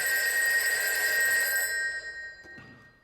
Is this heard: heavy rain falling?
no